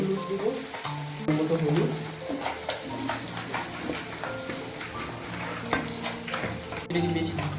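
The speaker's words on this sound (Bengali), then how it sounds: "বেলে মাছটা ভাজা হচ্ছে, আর একটু মশলাটা ভাজা হচ্ছে" Bele fish and spices fry in a pan with a steady, close sizzle and the scrape of stirring, while a voice speaks briefly over the cooking.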